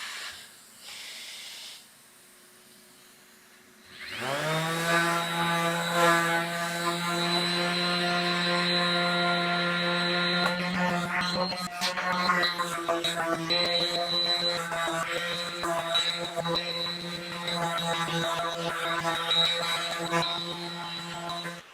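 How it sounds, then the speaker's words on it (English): A RIDGID 18V brushless 5-inch orbital sander starts up with a rising whine and runs steadily on wood, a loud sustained buzzing drone with scraping texture as it works. "Let's get to sanding and see how much we pick up or keep from loading up."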